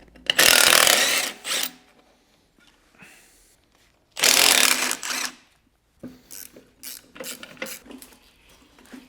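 Bolts come loose from the rear end of a BMW E46 330i, heard as two loud, harsh bursts of a powered tool separated by quiet, then a series of quicker, lighter mechanical clicks and rattles.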